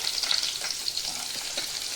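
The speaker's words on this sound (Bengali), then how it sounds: "কাঁচা লঙ্কা, আদা, রসুন, টমেটো আর পেঁয়াজ, এগুলো আমি একসাথে ভেজে নেব" Steady crackling sizzle of onions and chillies frying in oil, continuous and fairly close, with no voices.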